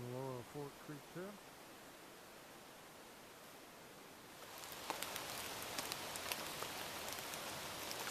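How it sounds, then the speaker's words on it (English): Rain falls at a forest campsite, a steady soft hiss that grows denser with distinct patters after a few seconds, preceded by a brief voice at the start. "It's been raining all day,"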